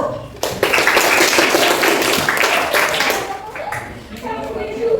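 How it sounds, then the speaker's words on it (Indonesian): Classmates applaud a student group after its presentation in a school lesson, a loud steady burst of clapping with children's voices mixed in, tapering off near the end. "Beri tepuk tangan buat kelompok 1."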